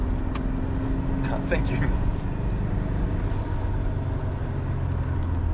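A car with a 1.9 diesel engine drives on wet mountain roads, its steady low rumble and road noise filling the interior, with a voice speaking briefly over it.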